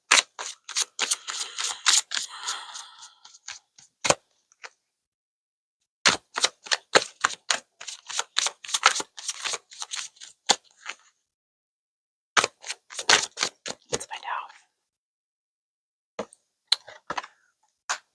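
Tarot cards are pulled from a deck and laid down one after another, rapid close crisp flicks and snaps in bursts separated by short silences.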